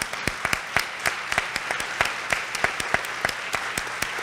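An audience at a women's event applauds students being recognized for leadership, steady and fairly close with distinct individual claps standing out, continuing throughout without any talking.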